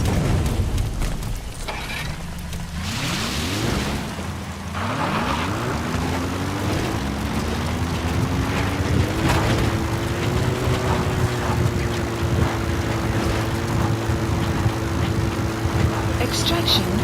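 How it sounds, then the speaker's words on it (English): Support helicopter arriving in Metal Gear Solid V: The Phantom Pain, rotor drone rising steadily in pitch as the aircraft closes in, loud and continuous, with game voices talking over it. "Support helicopter Roger. requested."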